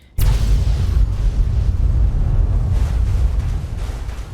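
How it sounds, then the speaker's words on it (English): Cars exploding in the video game Fallout 3: a sudden loud blast followed by a sustained, heavy rumbling roar that stays strong for several seconds. "blow up a bunch of cars here"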